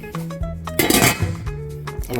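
Metal lid placed on a cooking pot of West African light soup with water: a few sharp clinks and rattles, one louder clatter in the middle, then short resonant rings, close and clear.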